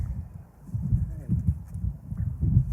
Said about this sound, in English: I think the horse's name is Bobby